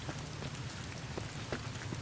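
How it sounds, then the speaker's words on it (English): Steady rain falls in the game Fallout: New Vegas, a constant broadband hiss with occasional brief drop taps, heard alone and fairly close. "Oh, it started raining again."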